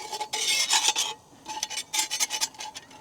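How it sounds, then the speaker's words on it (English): A metal spatula scrapes and rasps across a heated pan, working stuck-on food loose from the surface and corners in quick repeated strokes, loud and close, with a brief pause midway and no talking. "Move the spatula around, get into the corners."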